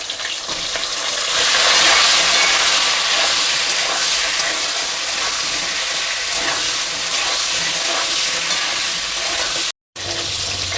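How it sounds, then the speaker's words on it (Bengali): Pieces of pointed gourd (potol) fry in hot oil for a paneer and potato curry, giving a loud, steady, close sizzle that barely varies throughout, with one brief cutout near the end. "আমি পটলগুলো লাল লাল করে ভেজে নেব।"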